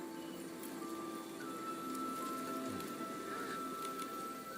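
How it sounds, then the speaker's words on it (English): Rain falling in the game Infinity Nikki as a soft, steady patter, faint and continuous, with a quiet tonal hum running underneath. "it rained"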